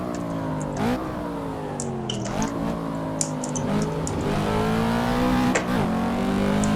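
Simulated Ford Mustang Boss 302 V8 at Laguna Seca in Assetto Corsa, loud and close, its engine note climbing steadily through a gear, then dropping sharply at each of several shifts and climbing again, with no talk over it.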